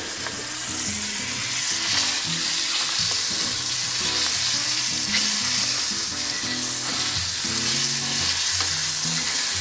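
Chinese-style yakisoba with squid legs fries over high heat in a pan, a loud continuous sizzle laced with the rhythmic clatter and scrape of tossing and stirring.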